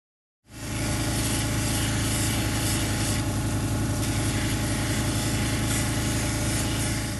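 A Lake Superior agate is pressed against a third-stage grinding wheel, producing a steady, loud whirring hum with a gritty rubbing texture that starts abruptly and holds constant throughout.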